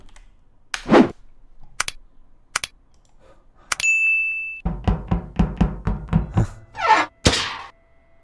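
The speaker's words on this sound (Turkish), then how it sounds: "Kapı çalıyor." Knocking on a door comes as a quick run of sharp, close raps, followed by scattered thumps and taps in an otherwise quiet room.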